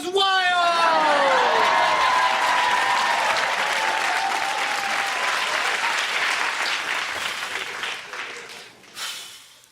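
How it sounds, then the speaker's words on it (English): A stadium crowd at a sporting event cheers and applauds wildly, a loud sustained roar of clapping with whoops and rising shouts at the start that slowly fades toward the end. "the crowd goes wild!"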